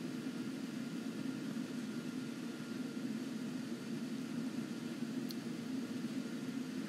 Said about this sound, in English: Dive bomber squadron. Flying out. Dive bomber squadron. Airborne. Alright, aircraft are out.